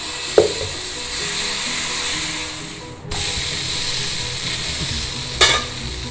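Dosa batter sizzles on a hot pan as a steady, close hiss, with a couple of brief clatters and a short break partway through; no talking.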